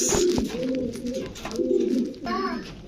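Danish blue barless pigeons for sale cooing close by, several rolling throaty coos repeating in quick succession, with a voice briefly heard near the end.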